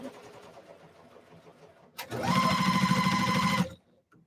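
A sewing machine runs in one steady, loud burst of about a second and a half while it stitches fabric along a folded edge, after quiet handling sounds and before a brief pause.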